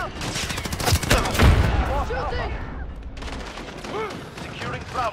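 Dense rapid gunfire and explosions in a first-person shooter match on the Shipment map, close and loud throughout, with game voice callouts mixed in.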